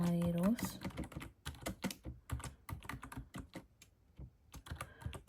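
Java code being typed on a computer keyboard, irregular bursts of close key clicks with brief pauses between runs, and a short tone at the start.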